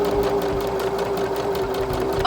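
A sewing machine stitches fabric trim, a fast, even mechanical chatter with a steady hum, close and continuous, ending in a brief clunk.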